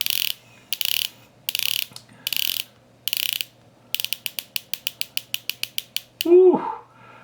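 The bezel of a SeL Instrument MK2 Omnidiver watch is rotated in close-up, first in short bursts of rapid ratcheting clicks, then in a steady run of single crisp clicks, followed by a brief vocal exclamation.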